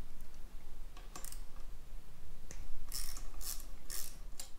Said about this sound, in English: you're going to need to remove the two 10 millimeter bolts